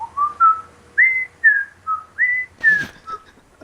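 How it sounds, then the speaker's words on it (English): A cheerful whistled tune of short rising and falling notes, clear and nearby, carrying on steadily for several phrases. "she can hear some happy whistling from down below"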